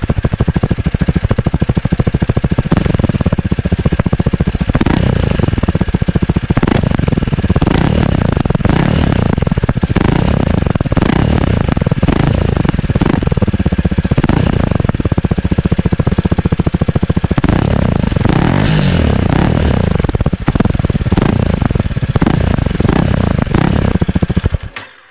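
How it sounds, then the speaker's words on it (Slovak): Honda CRF300L single-cylinder motorcycle on its stock exhaust, idling and blipping with a steady rapid thumping chug recorded up close, unbroken until it stops sharply at the end. "otestovať zvuk sériového výfuku"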